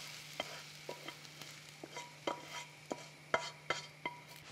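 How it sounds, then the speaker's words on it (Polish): Onion sizzles steadily in a pot, with a soft frying hiss and repeated light clinks of a utensil stirring, fairly quiet and close, no voices. "Cebulka już pięknie pachnie, odrobinę się zrumieniła."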